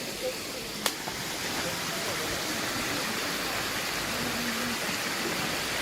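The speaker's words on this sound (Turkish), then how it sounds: "Şelale." A waterfall in Tokatlı Canyon near Safranbolu gives a steady broadband rush that stays even throughout, with a single sharp click near the start and no clear talk over the water.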